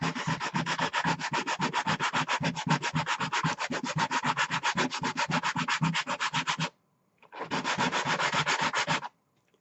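Sandpaper rubbing briskly along the overhanging edge of a wargaming movement tray in fast, steady back-and-forth strokes, close and loud, with a short pause before a final burst of strokes.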